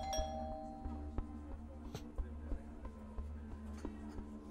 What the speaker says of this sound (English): pauses as a little bell rings when you open the door